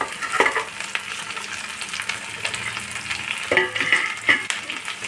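Capsicum and chopped tomato fry with onion in a pan for egg chilli, giving a close, steady sizzle broken by several sharp spatula scrapes and stirring bursts.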